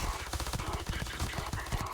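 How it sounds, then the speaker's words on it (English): Rapid automatic bursts from a machine pistol in the video game Starfield, dense crackling shots firing continuously over a short stretch at moderate loudness. "So it's effectively a machine pistol."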